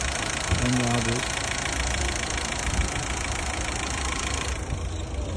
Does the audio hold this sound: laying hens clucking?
no